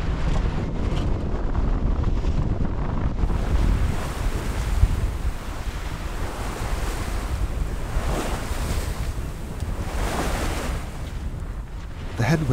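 Sailing toward Vestmannaeyar, Iceland, against headwinds of about 26 knots, steady wind roar buffets the microphone while waves wash and slap around the boat continuously, loud and close throughout.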